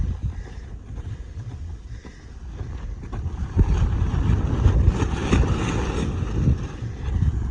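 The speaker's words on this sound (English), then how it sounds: "It's a windy day, so it picks up the tarp perfectly." A tarp flaps and rustles in gusty wind outdoors during horse groundwork, with steady wind buffeting the microphone and louder surges in the second half.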